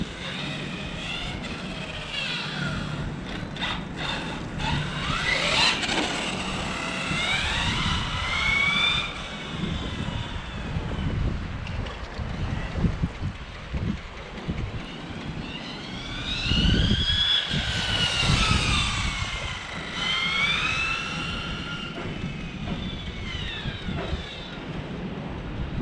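A Hobao Hyper 10SC radio-controlled car on 4S power with a 2400kv motor whines as it drives past in wind. Its electric pitch rises and falls in sweeping passes, near then farther away, with gusts of wind noise underneath.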